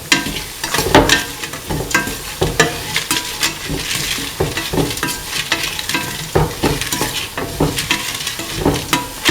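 A kidney bean, tomato and coconut milk stew is stirred in a sizzling pan. A spoon scrapes and clatters against the pan in an uneven rhythm over a constant frying hiss, up close and loud.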